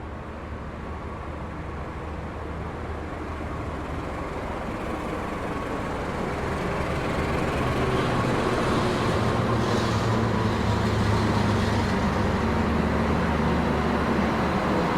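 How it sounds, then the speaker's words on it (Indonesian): Jayabaya train pulling into Lamongan station, a steady broad rumble and rolling noise that grows slightly louder and continues unbroken. "dan ada juga kereta yang akan masuk ya"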